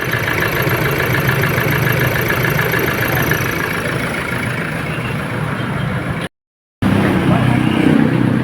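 A Toyota Hilux pickup engine, its noisy alternator pulley fixed, idles steadily with a smooth, even rumble and faint mechanical whine, close by. It cuts out briefly near the end and resumes.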